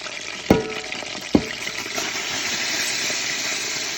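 Flour and hot grease fry in a pot for a seafood gumbo roux, a steady close sizzle broken by two sharp knocks of a utensil against the pot early on.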